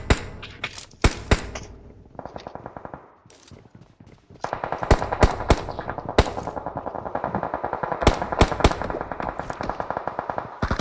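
Bursts of automatic gunfire and single shots ring out in a battle royale video game, rapid sharp cracks in clusters with a brief lull before heavier sustained firing resumes.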